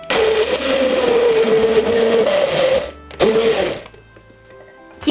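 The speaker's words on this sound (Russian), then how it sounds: "И блендером все хорошенько перемешиваю." A blender whirs through a tomato paste sauce with mixed ingredients in a litre jar, a loud whining motor running about three seconds, a brief stop, then a short second burst before near silence.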